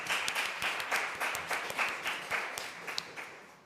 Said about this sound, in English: So please give a big, big, big applause to Ana Sánchez, Sonia Herranz, Paula López y